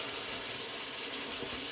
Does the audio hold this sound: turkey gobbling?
no